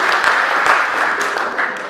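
Audience applause at a Hindi comedy poetry show, a loud dense burst of clapping from a large crowd, steady throughout.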